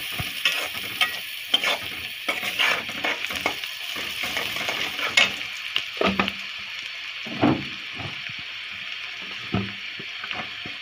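Fish heads fry and get stirred in a pan, giving a steady close sizzle broken by repeated sharp scraping strokes of the spatula against the pan.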